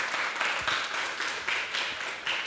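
A church congregation at an Easter service applauding, dense steady clapping from many hands that swells in waves and stays fairly distant and moderate in loudness.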